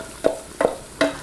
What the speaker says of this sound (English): as the butter melts, just want to stir the butter and flour together